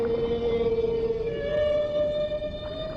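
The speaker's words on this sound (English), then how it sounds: "The male humpback sings to attract a mate" A male humpback whale sings a long tonal moan that holds steady and then slides upward, rich with harmonics over faint underwater noise.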